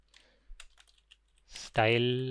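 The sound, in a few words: typing on a computer keyboard while writing HTML code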